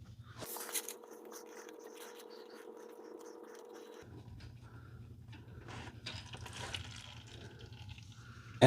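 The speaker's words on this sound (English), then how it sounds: "And while we have the oil draining" Engine oil drains from a 2011 Honda Rincon TRX680 ATV, a faint steady trickle of liquid falling into a pan, close by with light drips and handling noises.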